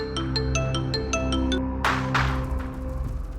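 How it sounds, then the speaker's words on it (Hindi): A mobile phone rings at night in a home scene from a Hindi television drama, with a repeating electronic ringtone pattern that is cut off by a louder rushing noise. "आपका फोन बज रहा है।"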